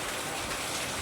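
Steady rain pours down in a dense, even wash of noise, loud and close with no break.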